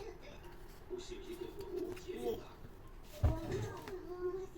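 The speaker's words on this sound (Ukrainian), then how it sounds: "Годинник зозулює." A cuckoo clock gives soft cooing calls, faint and partly masked by a child and an adult talking nearby.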